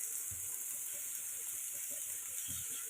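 Ginger garlic paste hisses and sizzles steadily in hot oil in a frying pan while tomato rice cooks, a soft continuous fizz with faint stirring knocks.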